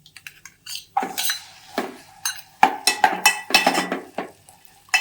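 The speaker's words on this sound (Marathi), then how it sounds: "आता याच्यामध्ये आता मी हे ड्रायफ्रूट टाकून घेते आणि ड्रायफ्रूटला जरा मी व्यवस्थित परतून घेणार आहे" Dried fruit sautéed and stirred in a pan for coconut jaggery rice: repeated metal spoon scrapes and clinks against the pan in bursts, with a faint sizzle underneath and no talk.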